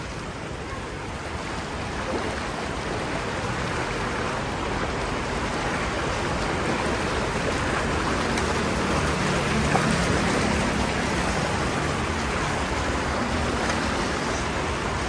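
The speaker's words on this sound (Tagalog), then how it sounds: "matangay ako ng rumaragas ang tubig oh" Rushing floodwater surges during a typhoon in a flooded area, a steady broadband roar of churning water that holds close and loud throughout, swelling slightly in the second half.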